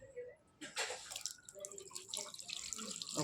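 Tap water running into a bathtub at night, a steady splashing stream with drips at close range, quieter at the start and then continuous.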